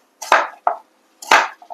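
A few sharp knife chops land on a cutting board, two louder strikes and smaller taps, close and crisp with silence between.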